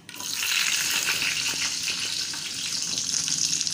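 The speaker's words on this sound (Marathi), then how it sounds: "मोहरी तडतडली" Mustard seeds and chillies crackling in hot oil for a tempering, a dense, steady sizzle with scattered pops that continues throughout, close and fairly loud, with no voices.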